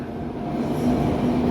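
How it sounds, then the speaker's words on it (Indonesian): The Kuto Jaya Utara passenger train rolls into Kroya station platform, a loud close rumble of wheels and carriages with a faint squealing tone over the steady roar. "di sini kereta api Kuto Jaya Utara masuk di jalur"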